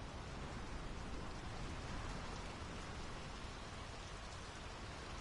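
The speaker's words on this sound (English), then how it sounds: "The rain's picking up." Steady, dense rainfall in the video game Draugen hisses continuously without letup, an even wash of drops with no voices.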